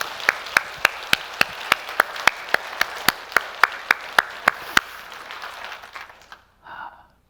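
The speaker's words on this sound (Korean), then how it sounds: "우리 하나님을 찬양하면서 우리 박수로 영광 돌리겠습니다" A church congregation claps together in a steady, even rhythm during a Sunday service, about eighteen sharp beats in unison, then the clapping stops and the room quiets.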